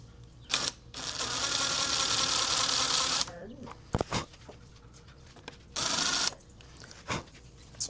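A tool countersinks a hole in a muzzleloader part, giving a sustained high whirring burst followed by a shorter one, with clicks and handling noises between them.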